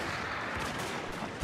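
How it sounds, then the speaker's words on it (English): Gunfire from a battle in the strategy game Shogun 2: Fall of the Samurai: a dense, steady rattle of distant musket and artillery fire with no clear individual shots standing out. "A few shots."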